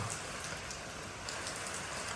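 Steady rain comes down over a farmyard beside paddy fields, a soft constant hiss of drops on surfaces at low level, with no voices.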